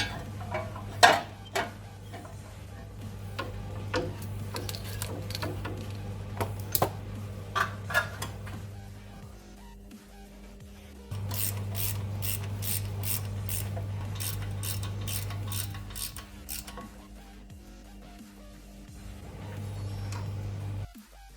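A ratchet tightens a nut on a Toyota Prado steering rack, giving runs of quick close clicks that pause and start again over a steady low hum, with no voices.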